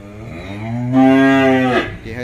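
A cow at a cattle farm gives a loud, close, drawn-out moo that rises and then trails off, heard alone without talk.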